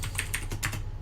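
A quick burst of typing on a computer keyboard at a Linux command-line terminal, several close, crisp keystrokes in an uneven rhythm with no other sound.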